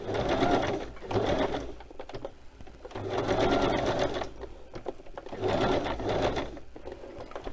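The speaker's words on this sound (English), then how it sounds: "I'm just going to whiz around a bit just to stitch it all together" A sewing machine stitches through decorated paper pages in three bursts of fast, whirring needle clatter, separated by short pauses with small handling noises.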